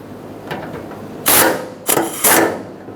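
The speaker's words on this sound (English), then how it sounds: "Start in the mounting bolts, snug them up." Ratchet bursts snug up the mounting bolts on the fuel tank brackets of a 1992-1996 Toyota Camry, close and loud: two or three rapid clicking runs separated by short pauses, with faint background noise.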